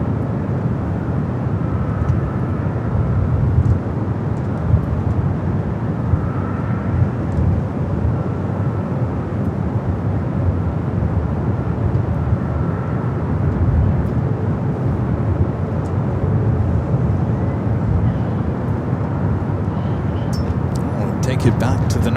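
Star Alliance airliner taking off at LAX bound for Las Vegas, a continuous rumbling jet roar at moderate distance lasting over twenty seconds, with people talking over it.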